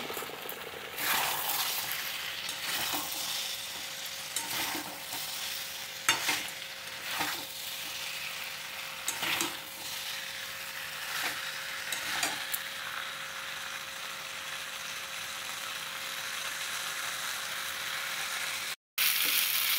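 Fried cauliflower florets sizzle and sputter in spice paste whose oil has separated, with repeated scraping stirs of a spoon against the pan over a steady frying hiss, close and fairly loud.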